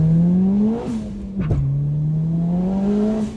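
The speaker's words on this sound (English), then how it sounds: "along the lines of turbo noise, this thing almost has as much as the Juke" A Porsche 911 Turbo engine revs up and down with a whirring, whistling turbo note, one brief sharp shift blip in the middle, fairly loud and close with no talking.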